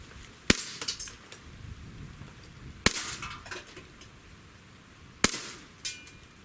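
Three sharp Springfield Armory XD pistol shots ring out a couple of seconds apart, each a crisp loud crack with a short echoing tail, with faint handling rustle between them.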